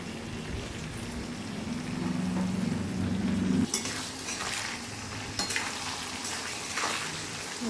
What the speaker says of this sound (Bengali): পেঁয়াজগুলো ভাজা হয়ে গেছে, এবার আমি কিমাটা দিয়ে দেব।